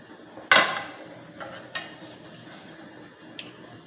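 Dried chillies, small shallots and curry leaves dropped into hot groundnut oil for a biryani: a sharp burst of sizzle, then softer crackling and a few light utensil clinks, close and with no talk.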